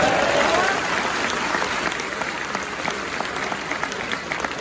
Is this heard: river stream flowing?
no